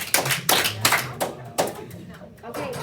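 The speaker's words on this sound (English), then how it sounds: "Hear me clap 4 times?" Four sharp hand claps spaced about half a second apart, close and fairly crisp, with a bit of room echo trailing each one.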